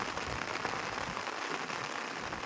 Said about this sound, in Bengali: দেখুন পুরো সমুদ্র ঘন মেঘে আর বৃষ্টিতে ছেয়ে গেছে